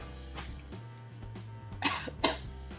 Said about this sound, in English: Is that a dry cough from the muffin or from the Corona?